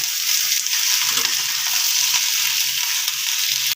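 Vegetables and tomato frying in a pan for a Bengali mourala fish chachari, a loud, dense, continuous sizzle with soft stirring scrapes underneath, close up and without speech, cutting off abruptly at the end.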